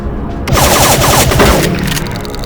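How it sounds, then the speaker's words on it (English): A burst of shotgun blasts in Perfected Doom 3, all ten shells emptied in under a second as a loud, dense volley that cuts off sharply, with a short reverberant tail afterward. "If I press mouse button 4, this fires all 10 shotgun shells out of the shotgun in under a second"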